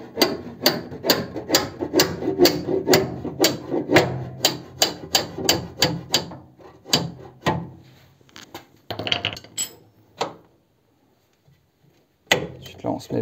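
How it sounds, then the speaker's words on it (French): A hammer strikes the sheet metal of a Renault 4L while upper wishbone silentblocs are replaced: a rapid run of sharp, close metallic blows, then scattered taps, a short silence and a few more hits. "c'est la tôle qui bloque un petit peu, donc quelques petits coups de marteau"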